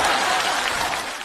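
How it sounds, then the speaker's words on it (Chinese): Applause from an audience, a dense, even wash of many hands clapping that carries through the whole short stretch and tapers slightly at the end. "爸给你鼓鼓掌行不行？"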